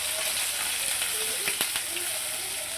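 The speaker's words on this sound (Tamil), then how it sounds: "இந்த வெங்காயம், புளி, தேங்காய் எல்லாமே இதில் போட்டுருவோங்க." Onion, tamarind and coconut go into a hot pan, which gives a brief, steady hiss and sizzle with a few soft knocks.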